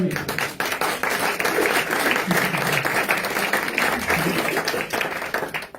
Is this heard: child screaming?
no